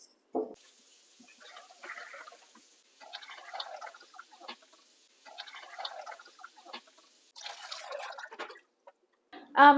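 Water trickles and drips into the reservoir of a hydroponic indoor herb garden, an L'einnus HGS10-A, in soft intermittent bursts separated by short pauses, ending with a louder clatter.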